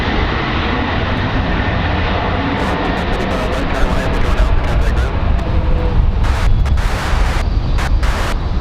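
A Breeze Airways jet touches down at Raleigh-Durham on a windy day after a flight from Pensacola, a loud, sustained engine roar filling the air with wind buffeting and a voice talking over it.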